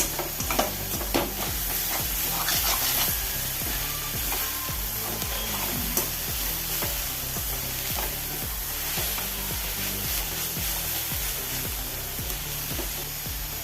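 Mixed green leaves sizzle in a hot pan while being stirred, the steady frying hiss broken by regular scraping and clicking strokes of the spoon, close and without voices.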